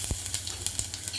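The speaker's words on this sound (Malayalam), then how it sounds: "ഇഞ്ചി വെളുത്തുള്ളി പേസ്റ്റ് ചേർക്കാം." Ginger garlic paste sizzles in coconut oil that already holds popped mustard seeds, making a close, steady frying hiss with a few sharp crackles scattered through it.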